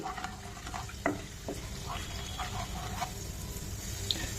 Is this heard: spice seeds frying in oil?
yes